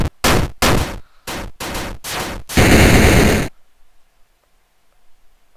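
Harsh, clipped bursts of noise from a John Wick retro video game: five short sharp blasts in a choppy rhythm, then a longer loud burst ending in a small explosion before fading to near silence.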